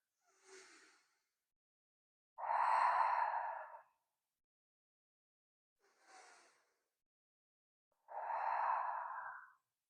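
During a gentle yoga stretch a person takes two slow, deep rounds of breath, each a soft inhale followed by a longer, louder exhale, close and alone in a quiet room.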